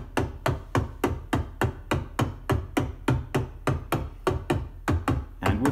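Straight, evenly spaced drum hits from an AE Modular synthesizer drum voice, with no swing and no delay between beats. The sharp percussive strikes repeat steadily and loudly, with no voices.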